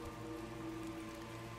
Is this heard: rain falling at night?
yes